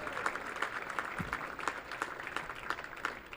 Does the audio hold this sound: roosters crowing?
no